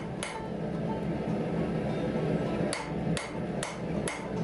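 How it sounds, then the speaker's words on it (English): A ball peen hammer strikes hot 5160 leaf spring steel on an anvil to texture bar stock, sharp metallic blows landing once early then in a quicker irregular series near the end over steady workshop noise. "whenever you're using the ball peen side, you've got to sit there and hammer a lot to be able to make sure you get the texture nice and even"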